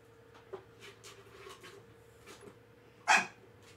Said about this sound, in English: He's barking out of frustration at the UFO.